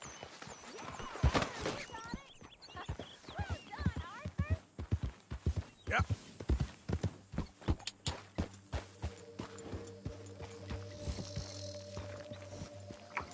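Horse hooves clip-clopping in Red Dead Redemption 2, a steady run of sharp hoof strikes on hard ground with talking voices and a low sustained tone near the end.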